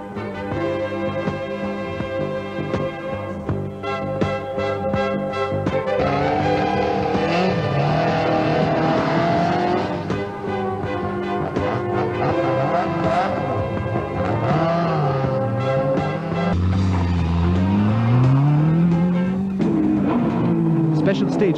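Rally cars race through the Ballyvoig special stage of the 1985 Cork 20 Rally, engines revving and rising in pitch over a long continuous stretch, with a narrating voice talking over them.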